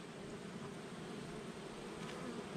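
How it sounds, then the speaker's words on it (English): A dense, steady buzz of many honeybees in an open hive close by, continuous and fairly soft with no voices. "Lots and lots of bees in here."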